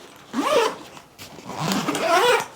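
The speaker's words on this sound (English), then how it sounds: "So let's zip this up here." Zipper on a photography adventure backpack pulled closed in two quick rasping strokes, close and fairly loud, with a short pause between them and no talking.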